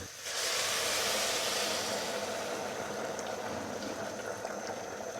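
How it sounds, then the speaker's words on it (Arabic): Lentil soup boiling in a pot gives a steady, moderately quiet bubbling hiss with faint pops throughout, and no voices. "نخليو لاصوب تاعنا تغلي مليح"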